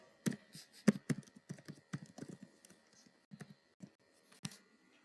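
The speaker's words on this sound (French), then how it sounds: "Il faut taper sur votre mot de passe." Password typed on a computer keyboard at a login screen, a quick irregular run of close, quiet key clicks with short pauses, no voices.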